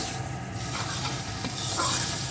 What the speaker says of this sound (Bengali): এইভাবে নাড়িয়ে নাড়িয়ে সুন্দর করে প্রথমে আমি এই তেল পটটা ভেজে নেবো